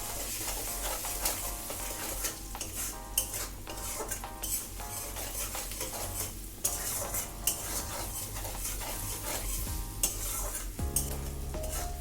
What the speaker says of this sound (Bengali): এতে আরেকটু লবণ দেবো এবারে দেব হলুদ গুঁড়ো দিয়ে এটাকে আমি ভালো করে মিশাবো